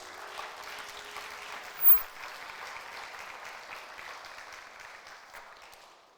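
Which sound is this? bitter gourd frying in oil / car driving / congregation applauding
congregation applauding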